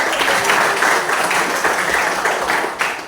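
A class of children applauds together, a loud burst of many small hands clapping close by, dense and sustained for about three seconds before easing slightly.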